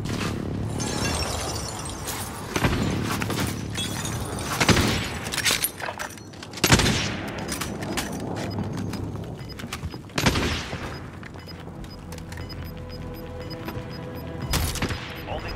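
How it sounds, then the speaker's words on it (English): Enemy precision airstrike in the Call of Duty Warzone video game, a dense barrage of loud booming explosions and crackling gunfire rolling on continuously with sharp blasts scattered throughout. "Enemy precision airstrike."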